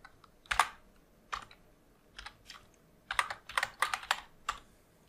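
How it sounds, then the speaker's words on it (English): A computer keyboard clicks in quick, irregular bursts of keystrokes with short pauses between them, close and fairly quiet, while someone types code. "sorry, my typing is really bad because I'm talking to the microphone"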